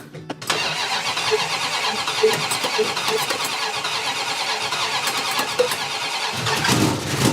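A 1973 Dodge Challenger barn find with HEI electronic ignition and manual choke cranks and catches, then settles into a loud, steady close-up idle with rough mechanical chatter, unrevved, alone.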